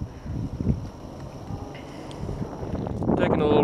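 Gusty wind on a steep hillside buffets the microphone in low rumbling bursts, growing stronger toward the end, with a voice faintly underneath.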